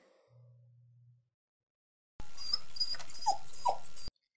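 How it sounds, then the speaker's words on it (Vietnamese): Dog whining in a short, high, strained burst with a couple of sharper yelps near the end, loud and close after a brief quiet lull with a faint low tone. "Cái con chó này đã bảo tránh ra cơ mà"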